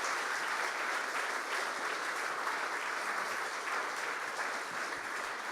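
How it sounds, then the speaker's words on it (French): Sustained audience applause at the 2012 Cité de la Réussite conference following a talk, dense and steady throughout with no voices over it. "Applaudissements entièrement mérités."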